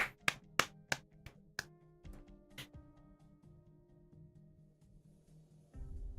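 A few quick hand claps close by, sharp separate smacks in an uneven cluster at the start, then a low steady hum with faint taps.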